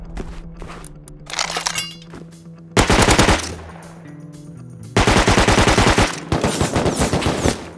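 Automatic gunfire during a base raid in the video game Rust, with loud rapid bursts cracking out in several separate volleys between quieter gaps.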